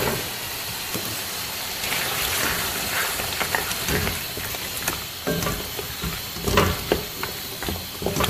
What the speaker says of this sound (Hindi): दो से 3 मिनट आलू को इसमें भूनने के बाद